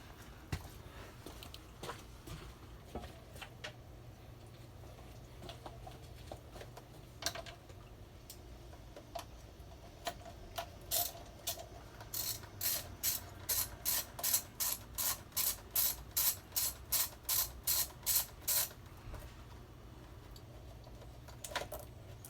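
Ratchet turning radiator bolts on a 2008 Suzuki GSX-R motorcycle: scattered clicks and handling noise at first, then a fast, even run of sharp ratcheting clicks near the end, close but fairly quiet.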